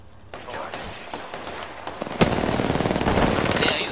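Automatic gunfire in a battle royale video game, a dense rapid burst of shots that swells louder halfway through and keeps rattling steadily, with game ambience beneath.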